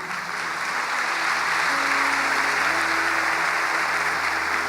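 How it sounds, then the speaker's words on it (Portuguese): Applause from a church congregation fills the room as a dense, steady wash of many hands clapping at once, holding at an even level throughout with no voices on top. "Dê um aplauso ao Senhor."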